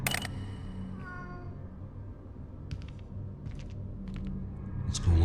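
A cat meows from somewhere inside a house, a single drawn-out cry near the start followed by fainter, short mewing and scratchy sounds over a low steady hum.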